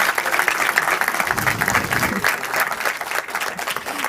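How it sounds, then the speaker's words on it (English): Audience applause fills the room for a presenter at a Smallworld event in Italy, a dense, steady wash of clapping that runs for about four seconds, with faint voices mixed in. "let's just please give a huge, huge round of applause for this amazing"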